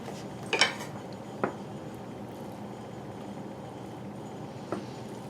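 A rice paddle mixes and spreads cooked rice in a bowl to cool it for California rolls, giving a few sharp clinks and knocks against the bowl amid quiet scraping, with no talk.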